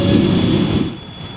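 A train rolls through a busy railway level crossing, loud rumbling wheels with a metallic squeal that fades slightly toward the end.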